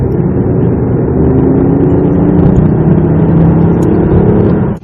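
BMW i8 hybrid sports car engine with an artificially enhanced sound, a loud, close, sustained drone with a steady tonal hum and a gently shifting pitch before it cuts off.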